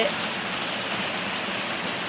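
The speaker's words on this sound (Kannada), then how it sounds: "ಮತ್ತೆ ಮಳೆ ಹೊರಪಟ್ಟು ಬತ್ತು ದಬಾ ದಬಾ ಅಂತ ಬೀಳತ್ತ" A dense, even hiss of heavy village rain falling steadily, with no pauses or other sounds standing out.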